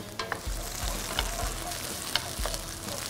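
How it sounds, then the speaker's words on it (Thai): Onions stir-fried in a hot wok for a Thai pineapple fried rice with tiger prawns, a steady sizzle broken by several sharp scraping stirs of the spatula, close and loud with no talking. "ใส่น้องหอมใหญ่ก่อนครับผัดให้หอมก่อน"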